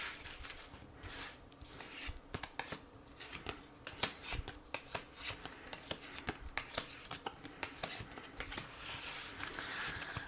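Tarot cards are shuffled by hand in a quiet room, giving a soft, irregular run of riffling and sliding flicks with sharper snaps scattered throughout and no voices.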